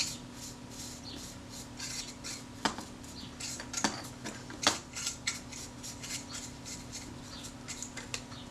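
A brush soaked in kitchen cleaner scrubs parts of a Zeiss Ikon Contina IIa camera in quick, close, scratchy strokes, with a few sharper clicks and taps mixed in and no talking.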